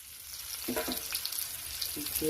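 Pointed gourd fries in hot oil, a steady soft sizzle with a few low bubbling and stirring sounds, close and fairly quiet.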